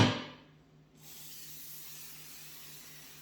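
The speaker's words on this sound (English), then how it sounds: "I'm gonna spray it on here and it's gonna dissolve the glue that's on here" Label remover is sprayed onto a Creality CR-10 3D printer part in one close, hissing burst that fades out, then a faint, steady hiss lingers.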